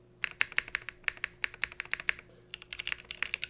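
Typing on a Cycle 8 mechanical keyboard fitted with a custom spacebar switch: crisp, close clacks in quick bursts, with a brief pause mid-stream before the rapid keystrokes resume, no voices.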